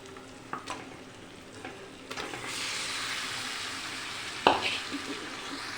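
Chicken tipped into a pan of frying ground spices, with chilli powder, coriander powder, Kashmiri chilli powder and black pepper. It hisses with a low sizzle, broken by a few stirring scrapes and one sharp clatter near the end.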